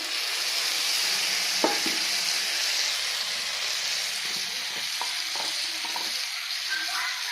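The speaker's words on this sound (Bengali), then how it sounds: "তারপর দিয়ে দিলাম আমি লাল মরিচ বাটা।" Red chili paste frying in a pan with turmeric, a continuous close sizzle and hiss with occasional scraping stirs and small pops, no talk.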